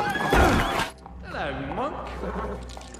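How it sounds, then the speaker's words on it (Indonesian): A horse lets out a clear whinny as a monk rides off on it, following a burst of louder noise, with a low rumble beneath and no talking. "Biarawan itu kemudian kabur dengan menaiki kuda milik Jack"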